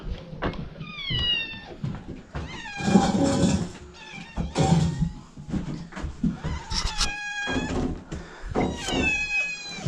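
Several cats meow repeatedly in a shed, overlapping high cries close by, with thumps and rustling in the background.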